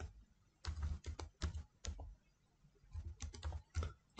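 Typing on a computer keyboard to enter a web address, close bursts of quick key clicks with a short pause in the middle, no voice.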